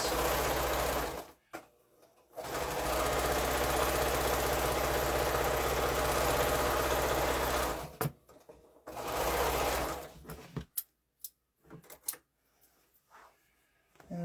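Quilt pieces run through a sewing machine in pairs, its motor whirring loud and steady in long bursts, stopping briefly between seams, then a few short stitches and clicks near the end.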